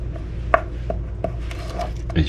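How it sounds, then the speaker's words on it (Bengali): Knife chopping through Swiss chard stalks on a cutting board, a few sharp separate chops with pauses between them, close and clear over a low steady background hum. "প্রথমে ডাঁটাগুলোকে সেপারেটলি কেটে নিচ্ছি, কুচি কুচি করে, খুব ছোট ছোট করে কাটবো।"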